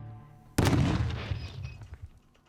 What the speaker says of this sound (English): Painting with explosives to make some art in 3,